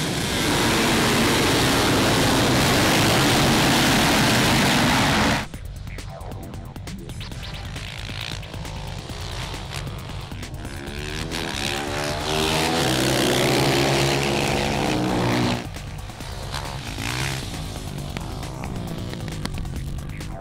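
Supermoto motorcycles at the start of a championship race, a loud roaring engine burst that cuts off abruptly, then revving and passing engines rising and falling, near and then further away.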